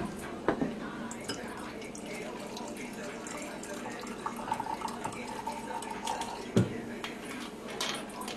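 Captain Morgan rum pours from a gallon bottle in trickling, glugging splashes, with a few sharp glass clinks and knocks close by.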